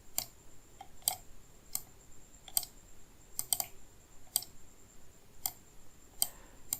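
Sharp mouse clicks while selecting an icon in a design app, about a dozen crisp, close ticks spaced unevenly over several seconds, some in quick pairs, above a faint background hiss.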